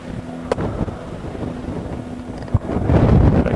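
Wind buffets the microphone on Mount Arbel, overlooking the Sea of Galilee, producing a low, uneven rumble that swells toward the end with a couple of sharp gust thumps.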